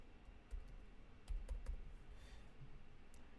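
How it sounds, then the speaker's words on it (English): Light typing on a computer keyboard, a handful of soft key taps spread over three seconds, faint against a quiet room hum, no voices. "So we'll just type that in."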